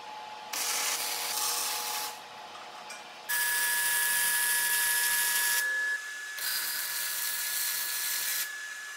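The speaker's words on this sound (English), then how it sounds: "I'll weld the angle brace in." Arc welding an angle brace onto a steel table frame: several steady, crackling buzzing bursts of varying length, separated by short pauses, close and fairly loud.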